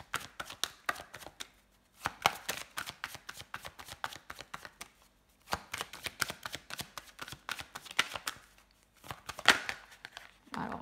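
Tarot cards being shuffled by hand, close and crisp, with repeated bursts of rapid riffling and slapping separated by short pauses.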